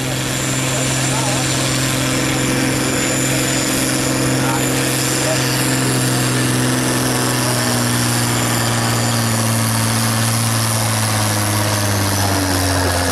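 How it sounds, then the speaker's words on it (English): A Cummins diesel pulling tractor idles loudly at a tractor pulling event at a steam fair, a steady deep drone with a high whine running throughout, while an announcer talks over it. "It's a Cummins engine, diesel."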